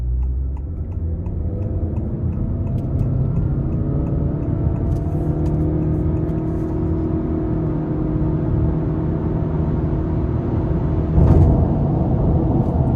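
A 2025 Honda Accord SE accelerating hard, its engine drone and road rumble steady and close for the whole stretch, with a brief louder swell near the end.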